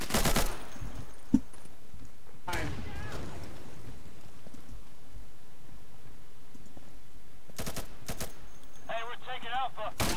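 Gunfire in the video game Insurgency: loud bursts of automatic fire at the start, around the middle and near the end, with game ambience between them and speech present.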